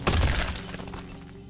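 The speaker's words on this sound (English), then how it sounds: "That shatter is so good." A shatter effect from the Mortal Kombat fighting game crashes at once, a bright, breaking-glass burst with cracking debris that rings and fades over about a second and a half.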